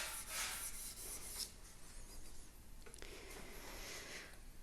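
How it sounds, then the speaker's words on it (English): A laser-sintered aluminium 3D-printed heatsink is sanded by hand, producing quiet, close rubbing strokes with a gritty rasp that come in uneven passes. "I really wanted to see how much could you sand it down to"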